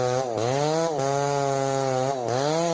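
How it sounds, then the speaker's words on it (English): A Multitech 2040 XP90 chainsaw cutting into a big burning tree trunk in a forest runs as a loud, steady, buzzing whine, with its pitch dipping and rising twice as the blade bites. "In the silent forest, the chainsaw screams, shattering the stillness with raw power."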